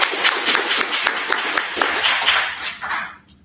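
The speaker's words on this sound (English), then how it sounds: "Let's give him a hand clap." A burst of applause from a crowd, many hands clapping steadily for about three seconds before it fades out.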